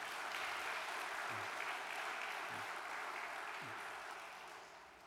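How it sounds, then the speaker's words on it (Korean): A congregation applauds during a Chuseok church gathering, with continuous dense clapping at moderate distance that holds steady and then tapers off toward the end. "또다시 박수를 보내올리겠습니다"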